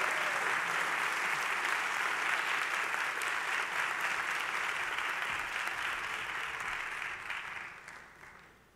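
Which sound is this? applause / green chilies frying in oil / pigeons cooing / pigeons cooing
applause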